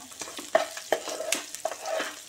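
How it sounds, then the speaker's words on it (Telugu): Green chillies stirred into masala frying in a pan for paneer matar masala, with a soft sizzle under intermittent scraping clinks of the spoon against the pan, close and fairly quiet. "పచ్చిమిర్చి వేసుకొని కలుపుకుందాం బాగా."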